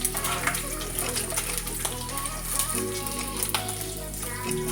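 Onions, peppers and garlic sizzle in leftover sausage fat, a steady close frying hiss with scattered crackles and faint background music, no talking.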